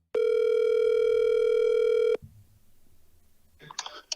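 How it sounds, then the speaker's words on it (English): Telephone dial tone while placing a call: a loud, steady electronic tone lasting about two seconds and cutting off abruptly, followed by a quiet low rumble and a few faint clicks near the end. "And now we need to together call Edwin"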